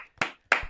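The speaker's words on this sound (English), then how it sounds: "Can we take a second and can we just clap it up?" Two short bursts of hand clapping from a crowd at a postgame NBA press setting, each sharp onset fading quickly, fairly close and loud with no talking.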